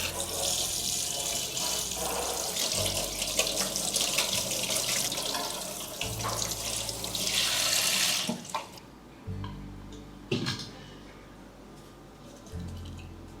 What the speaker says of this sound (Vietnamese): Giờ mình đem rửa sạch lại với nước lạnh.